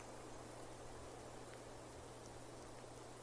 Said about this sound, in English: Suddenly, it starts to rain,